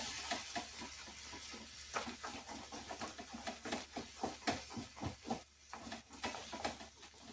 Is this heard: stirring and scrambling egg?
yes